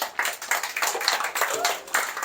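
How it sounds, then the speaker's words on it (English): An audience claps in a short, lively burst of rapid handclaps at a live outdoor festival show, close and fairly loud. "get used to the short bursts of clapping"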